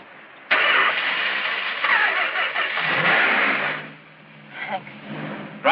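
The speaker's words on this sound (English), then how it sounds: "Try and start the car now." A car engine cranks and catches, then runs steadily at a loud, close idle for several seconds before dropping away; the car is due to have its carburetor cleaned.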